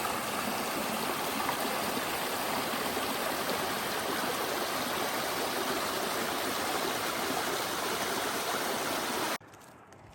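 A steady rush of a clear mountain stream beside the Pacific Crest Trail fills the scene, loud and close, then cuts off abruptly near the end.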